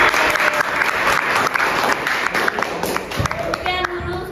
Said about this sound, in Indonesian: Oke, beri tepuk tangan dulu Kak Alistia.